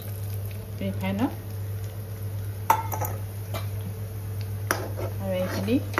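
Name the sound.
gram flour frying in oil, stirred in a wok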